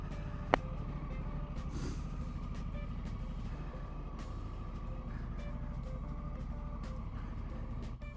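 A Honda Africa Twin Adventure Sports motorcycle engine runs at a steady idle close by, a continuous low rumble with one sharp click near the start.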